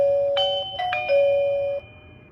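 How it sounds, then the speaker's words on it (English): A Lindo doorbell chime rings out after the button is pressed: a few clear electronic ding tones in sequence, close and clean, fading at the end. "once I press on the doorbell, the chime should be chiming"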